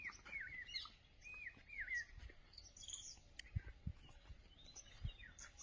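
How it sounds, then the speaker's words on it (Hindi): Birds chirp and twitter in bright, repeated short calls at a hilltop ashram on Rakoli hill in Barsana. Several birds call from nearby against quiet surroundings, with a few soft knocks and rustles. "देखिए चिड़ियों की छटा।"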